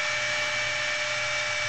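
A spinning wood lathe whirs in a steady high-pitched hum while a turned piece is sanded, with a constant, close, even abrasive hiss and no talking.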